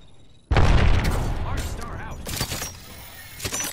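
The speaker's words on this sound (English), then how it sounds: "I'm gonna throw a grenade up there" A grenade bursts in Apex Legends with a sudden loud boom, followed by ringing debris and scattered combat noise, while players talk over the fight.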